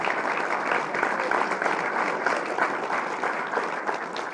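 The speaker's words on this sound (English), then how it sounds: "yes, you can applaud, sir, it's okay." Steady, dense applause from a campaign event audience fills the whole stretch, a continuous wash of many hands clapping at even volume with no pause.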